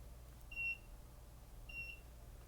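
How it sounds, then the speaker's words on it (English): A rechargeable battery charger gives two short, faint electronic beeps about a second apart against a quiet room hum. "My rechargeable battery charger."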